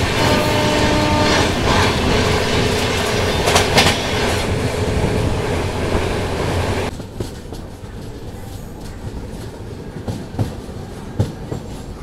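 The 12795 Vijayawada–Lingampalli Intercity Express (Shatabdi), running nonstop from Guntur Junction, makes a loud rushing rumble with rail clatter and a brief horn-like tone. The sound drops sharply to a quieter, more distant rattle with scattered clicks.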